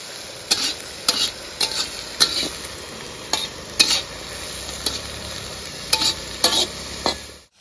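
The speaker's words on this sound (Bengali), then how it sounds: "পেঁয়াজ দেওয়া হয়ে গেছে এখন কড়াইয়ে।" Onions frying in a kadai at an outdoor village-style picnic by a dam, a steady sizzle punctuated by regular sharp scrapes and clanks of a spatula stirring, close and loud.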